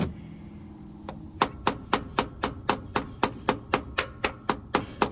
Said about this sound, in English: we put the screwdriver on and the hammer on, and we hammer in